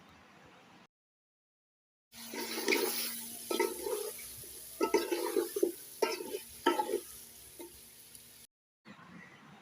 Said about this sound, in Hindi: अब इसके अंदर मैं कद्दू डाल रही हूँ, और कद्दू डाल के भी इसको भी हम थोड़ा सा मसाले में पकाएंगे